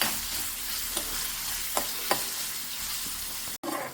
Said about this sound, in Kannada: ನಾನಿವತ್ತು ಈ ಬೀಜವನ್ನು ಹುರಿದು ಮಾಡ್ತಾ ಇದ್ದೀನಿ